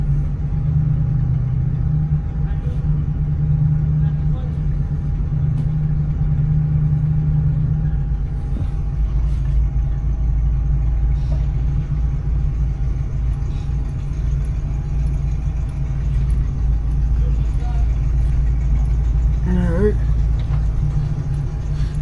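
A 1975 Buick LeSabre idles and creeps along at low speed through a tight spot, its engine a quiet, steady low rumble that never rises, with faint talk at times.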